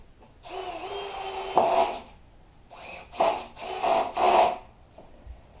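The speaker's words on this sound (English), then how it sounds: "I'm going to screw it down." A screw is driven into wood with a powered driver, heard as several short whirring bursts with brief pauses between them. The sound is moderately close, and no one speaks.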